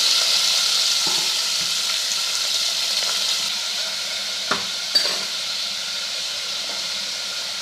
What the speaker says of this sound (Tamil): இப்போது வெங்காயத்தை ஆட் பண்ணிடலாம்.